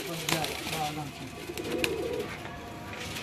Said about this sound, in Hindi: लाल आंखों वाले मेरे पास कमाल के कबूतर हैं, बहुत अच्छे।